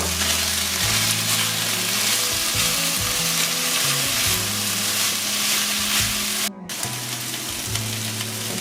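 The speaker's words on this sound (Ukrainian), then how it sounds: "Додаємо до м'яса цибулю і морку. Трошки нарізану. тушкуємо. Трішки тушкуємо." Meat with chopped onion and carrot stews in a pan, giving a loud, continuous sizzle close up, joined by a persistent low hum and a brief break near the end.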